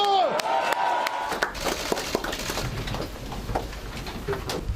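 A crowd at an outdoor political rally breaks into applause and cheering after a shouted call, clapping spreading over murmuring voices, with a speaker's voice heard at the start.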